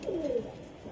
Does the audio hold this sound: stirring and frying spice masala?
no